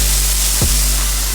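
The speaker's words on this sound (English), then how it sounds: "I'm about to sear these for like 2 minutes on each side." Steaks sear in a hot pan with a loud, steady sizzle that fills the whole moment, with a brief thud or clatter partway through and no talking.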